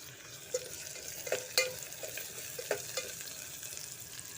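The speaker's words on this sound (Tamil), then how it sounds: "பூண்டு, இஞ்சி எல்லாம் போட்டு நல்லா வதக்கி விடுங்க." Garlic and ginger sauté in a pan for vegetable biryani: a soft, fairly quiet sizzle runs under a handful of sharp spoon scrapes and taps against the pan, with no speech.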